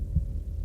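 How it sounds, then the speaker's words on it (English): A heartbeat sound effect in a spoken Halloween story: one deep, muffled low thump over a steady throbbing hum, close and brief, with no voice over it. "His heartbeat pumped so fast, it felt like he was having a heart attack."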